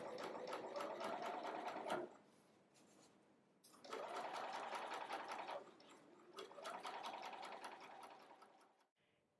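A sewing machine stitches a welt pocket bag to a waistline, running in three steady bursts of fast, even needle clatter separated by short pauses.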